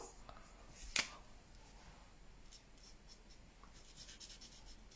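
Felt-tip marker in a skin tone scratching across paper while a pop-up card is colored, a faint, close, continuous scribbling texture with one sharp tap near the start.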